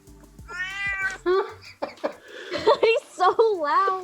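Binks, a loud pet cat, lets out several rising, wavering meows close by, mixed with people talking and a short chuckle.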